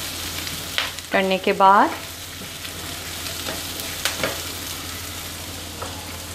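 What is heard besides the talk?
chicken frying in a pan for a few seconds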